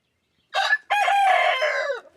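A rooster crows nearby, a short first note, a brief break, then a long, loud, drawn-out call that tails off, with no voices.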